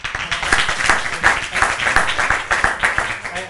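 An audience at a public planning and zoning hearing claps, a ragged burst of applause filling the room at close range, with bursts of voices mixed in.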